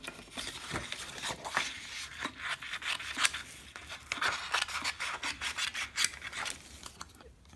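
Paper being cut into an oval for the head of a 3D Yoda pop-up card, with close, continuous rasping scrapes and snips in an irregular rhythm and no talking.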